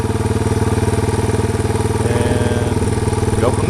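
A Yamaha TW200 motorcycle engine idles steadily up close, its even, rapid thumping pulse loud and continuous, with the carburetor checked for a fuel leak.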